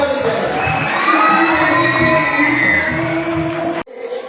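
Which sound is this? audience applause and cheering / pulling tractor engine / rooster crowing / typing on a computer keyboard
audience applause and cheering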